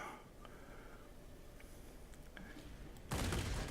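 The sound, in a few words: aircraft cannon fire in video game World of Warplanes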